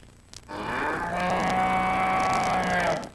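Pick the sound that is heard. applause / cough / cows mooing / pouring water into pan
cows mooing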